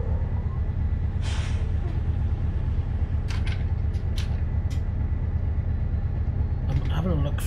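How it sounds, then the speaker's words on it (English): A truck's air handbrake in Euro Truck Simulator 2 gives a short, sharp hiss of released air over a steady low engine idle, with someone talking throughout. "Got the old handbrake on."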